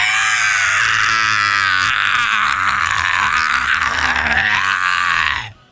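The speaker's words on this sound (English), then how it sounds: "Frieza starts screaming in pain." Frieza from Dragon Ball, animated, screams in pain: a loud, sustained, strained voiced cry that wavers in pitch for over five seconds and then cuts off abruptly.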